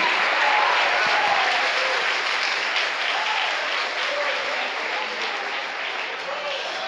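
A church congregation applauds during an evening worship service, a dense, steady wash of clapping from many hands that holds for several seconds and eases slightly toward the end, with faint voices mixed in.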